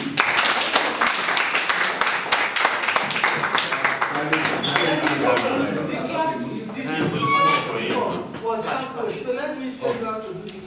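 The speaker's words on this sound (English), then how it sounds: "please can you clap your hands for the group?" An audience claps hands together for a presenting group during a day-one session, a dense burst of clapping for about four seconds that thins out as voices and talk take over.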